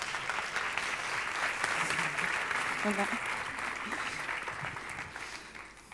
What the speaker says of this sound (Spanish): Así que démosle un aplauso